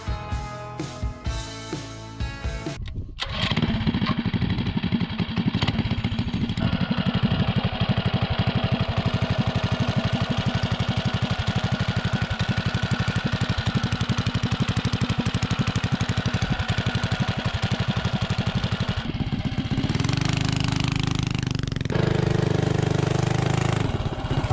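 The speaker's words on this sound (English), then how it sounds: "I think I'll run the bike top speed first, that way it'll be nice and warmed up for the 0 to 30 test." A small mini bike engine running on 87 octane gas revs hard and holds a loud, steady buzzing drone close to the microphone, after a brief rougher start, with no talk.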